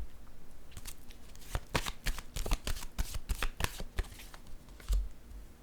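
Tarot cards being shuffled by hand, a run of quick crisp riffling bursts with soft slides between them, close and fairly loud with no talking.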